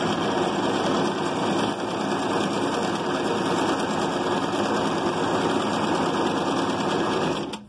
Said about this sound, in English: I'm sewing all the squares together